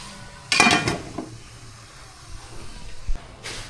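A utensil stirs sweet adobo cooked with Sprite in a pan, a short clatter and scrape with a faint sizzle underneath, followed by a few lighter knocks.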